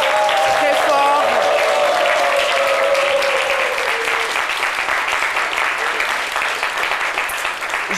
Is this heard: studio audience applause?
yes